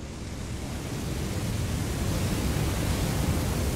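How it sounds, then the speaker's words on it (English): Waterfall in the open-world game Elden Ring, a dense, steady rushing roar of falling water that fills the sound continuously and grows slightly louder, with no voices. "Oh, that sounds like a wonderful waterfall."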